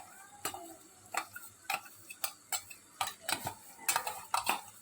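A spoon works plain yogurt into a cooked biryani gravy in a metal pot, giving a run of distinct close clicks and scrapes against the sides at an irregular, roughly once-per-second pace.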